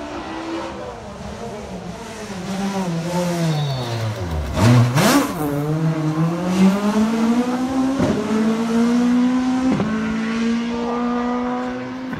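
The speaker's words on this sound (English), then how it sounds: "Seeing the cars in their prime, going around these corners, it's amazing." Rally cars at the Clacton on Sea motor rally sweep through corners: a loud engine note dips as the car slows, then climbs through the gears as it accelerates away, with a second car passing close by.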